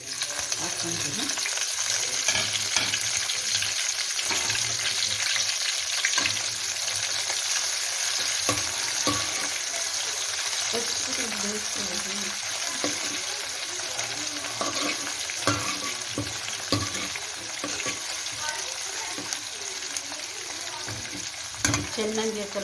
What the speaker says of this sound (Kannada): ಎಣ್ಣೆ ಕಾಯಿಲಿ. ಈರುಳ್ಳಿ ಹಾಕ್ಕೊಳ್ತೀನಿ. ಪುದೀನ, ಕೊತ್ತಂಬರಿ ಸೊಪ್ಪು ಕಟ್ ಮಾಡಿ ಇಟ್ಕೊಂಡಿದ್ದೀನಿ, ಹಾಕ್ಕೊಳ್ತೀನಿ.